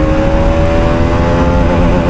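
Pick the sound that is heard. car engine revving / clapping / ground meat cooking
car engine revving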